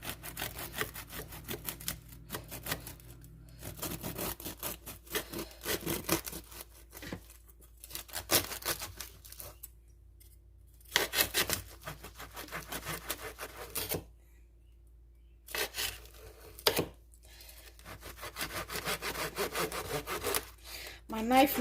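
Serrated knife sawing through a crusty Tuscan Dutch oven loaf, a loud rasping crunch in repeated strokes broken by short pauses, close up and without talk.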